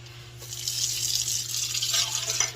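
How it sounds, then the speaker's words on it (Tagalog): Water runs steadily from a tap into a container being filled for replanting basil cuttings, a continuous close splashing hiss over a low background hum, with no voices. "Nilagyan ko ng tubig."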